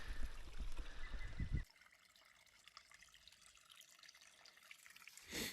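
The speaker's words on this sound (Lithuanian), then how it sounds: "čia upelis teka" A small stream flows past a roadside rest spot on a bikepacking trip through Europe, a steady trickling water sound that is louder at the start, then quieter and continuous, with a brief swell near the end.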